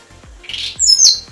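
Short bursts of bright chirping and tweeting from a competition songbird, a few sharp calls separated by brief pauses, with no one talking.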